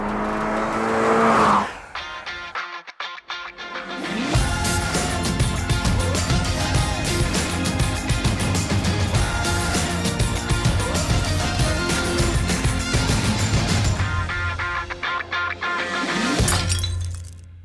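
A 2022 Toyota GR86 sports car on the track at Monticello Motorsport Park in New York, loud and close, its engine revving and rising through the gears with brief breaks in the sound.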